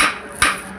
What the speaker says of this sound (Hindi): अब हम इसको हथौड़े की मदद से ठोकेंगे।